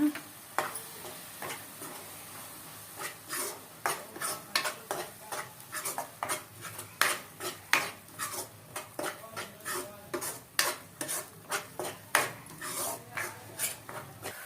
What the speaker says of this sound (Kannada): ಕೊಬ್ಬರಿ, ಗಸಗಸೆ, ಗೋಡಂಬಿ ಅದನ್ನು ಹಾಕಿ ಫ್ರೈ ಮಾಡ್ಕೊಳ್ಳೋಣ